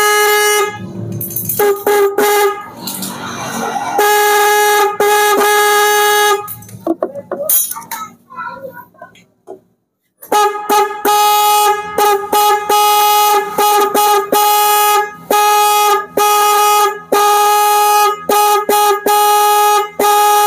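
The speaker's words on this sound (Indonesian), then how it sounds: "klakson ini bagus" Horn of a Honda Vario 150 scooter on test, honked in many short and long blasts close by, with a gap of clattering and rustling midway before the honking resumes.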